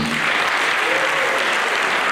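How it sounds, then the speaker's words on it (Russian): A concert audience claps in steady, dense applause, loud and even for the short moment, with no other sound standing out. "эти аплодисменты тому подтверждение"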